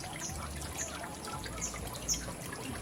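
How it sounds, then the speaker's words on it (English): Water trickles steadily from a homemade decorative garden fountain at the corner of a house, a soft continuous splashing broken by a few brighter drips, with no voices. "This is the water fountain I created a few years ago."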